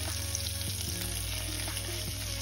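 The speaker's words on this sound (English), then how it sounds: "so you hear a sizzle when you put the scallops in" Scallops sizzle steadily in browning butter in a hot pan, a constant crackling fry with a few soft clicks and shifts, close and fairly quiet with no talking.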